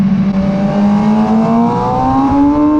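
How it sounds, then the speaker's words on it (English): A motorcycle engine drones loud and close on Yas Marina South Circuit, its pitch climbing steadily under hard throttle with a brief dip as it shifts up through the gears. "Punch the throttle, shift up to 5th gear"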